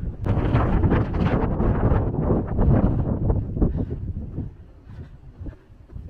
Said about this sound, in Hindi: ये आप देख सकते हैं कितनी हवा चल रही है